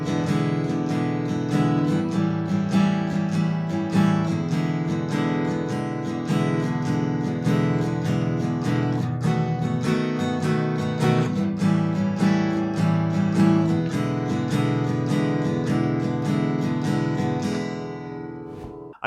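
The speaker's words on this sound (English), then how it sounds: "So if I do like a little blues shuffle" Acoustic guitar strums a steady blues shuffle with a loping swung rhythm for about eighteen seconds, played close and full before ringing out at the end; no voices.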